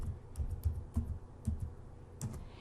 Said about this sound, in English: Let's type something in cell A1.